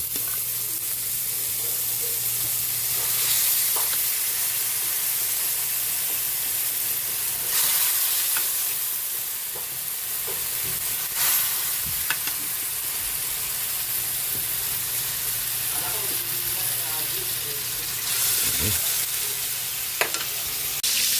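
Softened mung beans stirred in a hot frying pan, a steady loud sizzle with scraping strokes and occasional clacks of the spoon against the pan, no voices.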